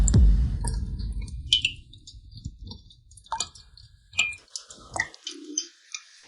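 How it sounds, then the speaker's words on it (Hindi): Water drips indoors in a home, a few sparse, quiet ticks and plinks spaced irregularly through an otherwise hushed room, following a louder thump at the start. "ये पानी की आवाज कहां से आ रही है?"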